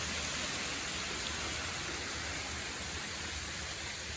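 Steady rushing water, a dense broadband wash like flow pouring over a weir, continuous and fairly loud with no voices.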